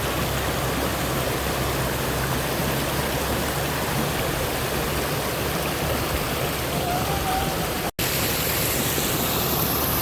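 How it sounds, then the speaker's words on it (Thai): Overflowing floodwater pours steadily over a spillway at Ban Kut Ruea Kham in Ubon Ratchathani, heading toward a nearby waterfall. The rush is loud, broadband and continuous, with a brief dropout near the end. "น้ำล้นตรงนี้จะไหลไปยัง น้ำตกแซหัวแมวค่ะ"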